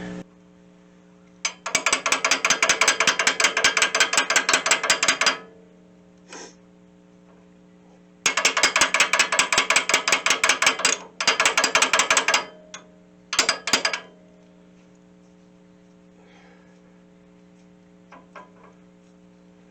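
Socket ratchet turning a fastener during a Dana 60 ball joint replacement, two long runs of fast loud clicking plus shorter bursts, separated by quiet gaps over a steady low hum.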